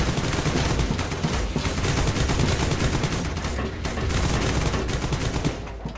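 Continuous rapid gunfire from a counter-terrorist squad shooting video game, loud and dense bursts running throughout with no pauses and no talking.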